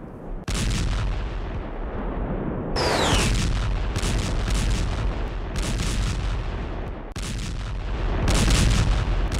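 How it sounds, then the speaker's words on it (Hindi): Repeated heavy booms and blasts of JDAM bomb explosions at a Russian base in Kherson roll through continuously, loud and rumbling, with sharp cracks recurring every couple of seconds. "जेडैम के धमाके से किस तरीके से रूसी बेस तबाह हो गया है"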